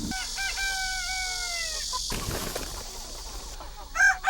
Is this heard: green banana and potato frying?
no